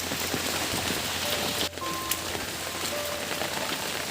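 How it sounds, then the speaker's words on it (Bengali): Steady cyclone rain pours down in a dense, constant hiss of drops hitting surfaces, continuous throughout with no voices. "এখনও ভালো ঝড় বৃষ্টি হচ্ছে আমাদের"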